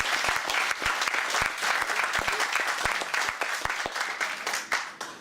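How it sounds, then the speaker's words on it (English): Wedding guests at the Commodore applaud the venue staff, a dense, lively burst of many hands clapping with sharp individual claps standing out, fading slightly at the very end. "So a big round of applause for them."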